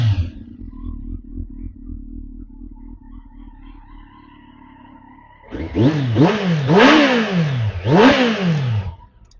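A 2017 Kawasaki GTR 1400 motorcycle with a Two Brothers exhaust idling with a low, steady rumble, then revved several times in rising and falling bursts, loud and close with no talk.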